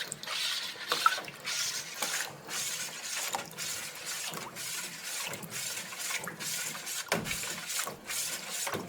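Nutrients are stirred by hand into a hydroponics reservoir, giving soft irregular sloshing and clinking of water, close and fairly quiet, with no talk.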